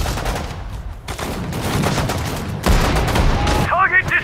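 Sudden Strike 4 battlefield gunfire rattles in dense bursts of rifle and machine-gun shots with sharp cracks and a few heavier reports, with brief voice commands heard among them.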